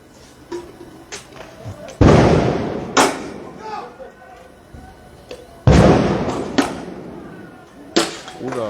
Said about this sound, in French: Oula, là ça tire sérieux.